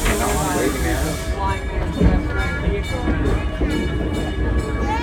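An Edison ride-on train runs with a steady clatter and hiss, a continuous rolling rumble heard from on board, with voices faintly mixed in.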